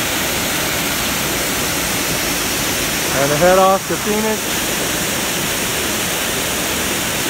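Water rushing down the diversion chutes at the Arizona Falls hydroelectric plant and spilling into a main canal makes a loud, steady roar throughout, with someone talking briefly over it near the middle.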